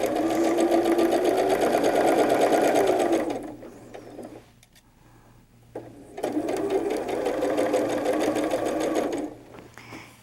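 Quilt block pieces are stitched on a sewing machine in two steady, close whirring runs separated by a short quiet pause, and the second run ends abruptly.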